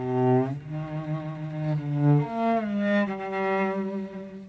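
Cello-like string instrument bowed with a very flat bow on the finger pads, giving a soft, harp-like tone; a slow melodic line of sustained low notes plays alone, close and moderately loud, with no talking.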